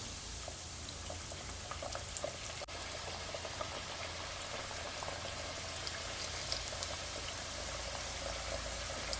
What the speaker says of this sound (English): Just gonna allow it to fry for at least 8 to 10 minutes